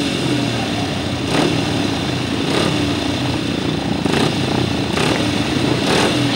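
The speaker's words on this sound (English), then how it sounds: "we go with the 500cc sidecars continuing their campaign this afternoon." 500cc sidecar motorcycles race on a grasstrack, their engines roaring steadily and loudly throughout, with a few louder surges as machines pass close by.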